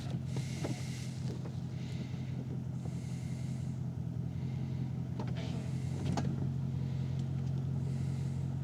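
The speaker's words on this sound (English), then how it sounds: "Should we put the roof down just for the sake of" The electric folding roof of a Mercedes SL500 convertible lowers with a steady motor whine over a low idle hum, broken by several soft clunks and clicks as the roof moves and latches.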